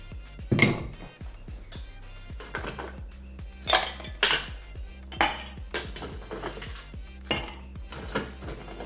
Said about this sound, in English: Remember when you're shaking your cocktail, shake it for quite a while.